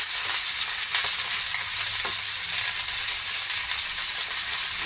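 Tofu and vegetables fry and get stirred in a hot pan, a dense, continuous sizzle with scraping stir strokes, loud and steady with no voices.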